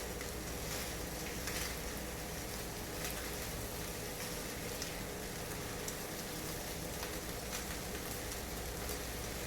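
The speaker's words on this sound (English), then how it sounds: "We're frying the rice right now" Steady, dense sizzling of rice frying in a hot pan for hibachi fried rice, with faint scraping and crackles throughout and no talking.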